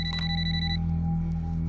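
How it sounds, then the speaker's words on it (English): A telephone rings with an incoming call, a bright electronic trill sounding briefly at first and then giving way to a steady held tone over a low constant hum. "she receives an unexpected phone call"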